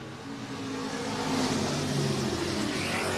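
Race cars roar off the start together at Sunset Speedway in Banks, Oregon, a dense, continuous engine drone swelling slightly as the field accelerates, heard from a distance with no talk.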